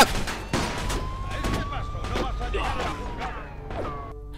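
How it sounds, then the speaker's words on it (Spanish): Police gunfire in Mafia II, the video game: a rapid series of sharp shots cracking one after another over a steady engine drone, with a voice talking in between. "Policía, me están disparando."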